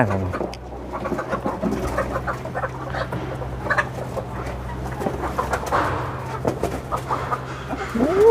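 Laying hens clucking inside a chicken coop, several birds making scattered clucks and short calls at moderate distance, with a steady low hum underneath and no talk.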